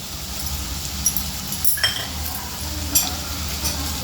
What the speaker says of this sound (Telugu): ఇంకోసేపు మనం ఇట్లనే ఫ్రై చేసుకుందాము. దంచుకున్న వెల్లుల్లి పేస్ట్, అల్లం వెల్లుల్లి పేస్ట్ కాదు, ఓన్లీ వెల్లుల్లి పేస్ట్.